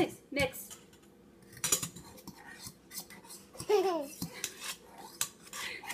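Eggs are whisked in a bowl with a utensil, bursts of clinking and scraping against the bowl mixed with brief voices and household clatter, fairly quiet and uneven.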